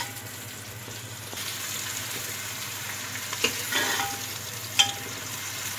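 Chopped onions sizzle and crackle in hot oil in a pressure cooker, with a few sharp clinks and scraping stirs of a utensil.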